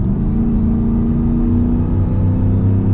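Shelby F-150 Super Snake's supercharged 5.0 V8 pulling hard, a loud, smooth, steady engine drone with strong low harmonics and a rising rev tone, heard close from inside with no talk.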